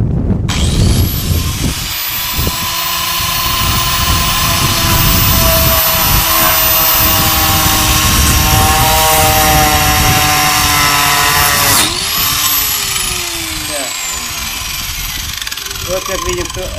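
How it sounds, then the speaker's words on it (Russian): An angle grinder whines steadily at high pitch for most of the clip, cutting extruded polystyrene foam insulation with rough scraping underneath, briefly dipping near the end before running on. "Попробуем болгаркой."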